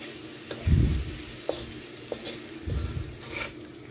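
A spoon stirs chicken and potato curry with hot chilies in a sizzling pan, with a few scraping knocks and soft frying crackle in between.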